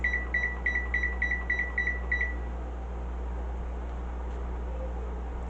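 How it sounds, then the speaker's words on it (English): A kitchen timer set to ten minutes while making crockpot applesauce and apple butter lets out a quick run of about nine sharp, high beeps. A steady low hum of the room continues after the beeps stop. "now we're going to set our timer at 10 minutes"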